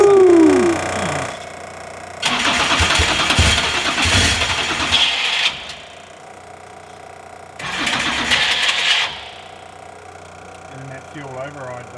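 An old truck engine is cranked and started in two bursts of a few seconds each, loud and rough with a mid-pitched rumble, separated by quieter pauses; a brief voice is heard near the start.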